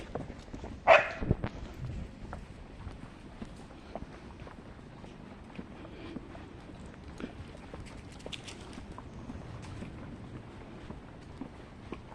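A single sharp dog bark rings out early, followed by a long stretch of quiet outdoor ambience with faint scattered ticks.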